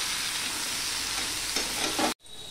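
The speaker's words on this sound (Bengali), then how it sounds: "এবার পটলটাকে আমি ভালো করেই ভেজে নিতে হবে।" Pointed gourd (potol) frying in hot oil gives a loud, steady, close sizzle that keeps up evenly before stopping abruptly near the end, with a quieter hiss afterward.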